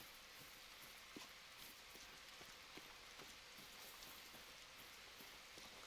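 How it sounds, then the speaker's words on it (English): Steady rain falls outdoors on a hilly hike in freezing weather around 10 degrees, a continuous hiss with scattered close drop taps; no talk. "And now it's raining."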